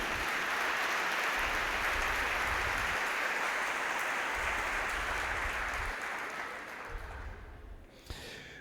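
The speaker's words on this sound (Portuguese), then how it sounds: "Você pode dizer amém e dar um aplauso a Jesus?" Sustained applause from a church congregation during a worship service, a broad steady wash of clapping lasting several seconds before tapering off near the end.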